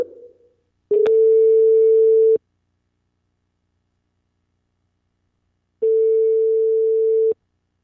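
Two long steady ringback tones on an outgoing phone call, each lasting about a second and a half and separated by a long pause, clear and alone on the line.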